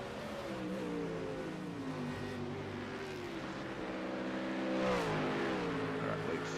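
Several GT3 race cars in a sim racing game run a late lap on a backstretch into the esses, their engine drones holding steady and rising in pitch toward a loud pass, with no talk.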